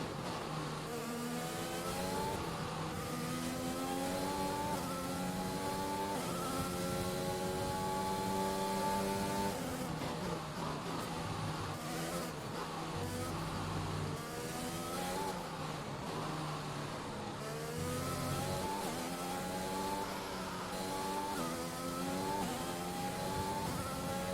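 Formula 1 car engine in F1 2021, a high buzzing whine climbing through gears with repeated rises and drops, steady and loud with no talk.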